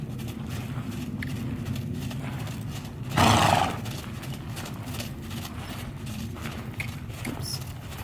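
A young horse working in side reins gives one loud whinny amid a steady run of hoof clip-clops on the ground, close by with no talk.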